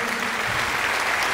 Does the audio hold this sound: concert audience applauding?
yes